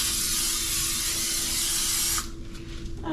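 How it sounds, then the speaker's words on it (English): A steady, close aerosol hiss from a can of cooking spray runs for about two seconds, then stops, leaving quiet background noise. "Some cooking spray"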